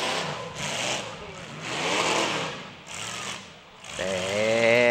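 Demolition derby car engines rev in surging waves at a season-opening event, rising and falling loudly, with an announcer talking over the noise.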